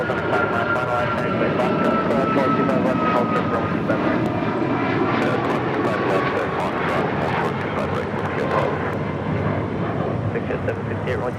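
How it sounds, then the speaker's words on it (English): A China Eastern Boeing 777-300 jet taxiing or departing at LAX produces a sustained loud engine roar with a gliding whine, punctuated by repeated sharp crackles and gusts of wind noise. "Talking over a China Eastern 777-300"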